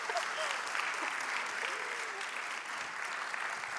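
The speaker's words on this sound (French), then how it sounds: "ça c'était les applaudissements officiels" Steady, dense applause from a large audience fills the whole stretch, a continuous wash of clapping without pause.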